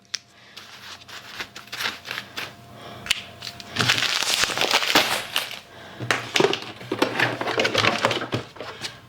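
A bag sealer closes bulk food bags, heard as close, crinkly plastic rustling and crackling handling with a few sharp clicks, coming in irregular bursts that grow busier midway.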